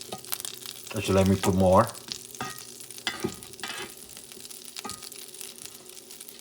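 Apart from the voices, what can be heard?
butter sizzling in a pan for hoe cakes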